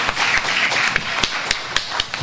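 A crowd applauds a primary-school student in a continuous patter of claps with sharper individual hits standing out, fairly close and without talking.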